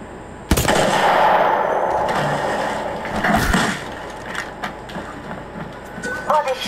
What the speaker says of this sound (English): Why are you shooting at me, bro?